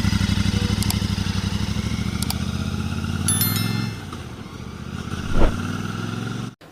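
A heavy 2025 Royal Enfield Super Meteor 650 cruiser motorcycle engine rumbles steadily and loud while riding, easing off midway, then surging briefly before cutting out abruptly at the end.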